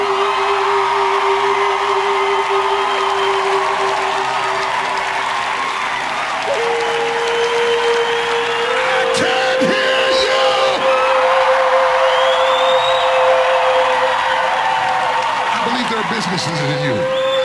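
A large crowd at a motivational church gathering applauds and cheers in a sustained roar, with whoops and yells rising over steady clapping and a held organ-like tone underneath.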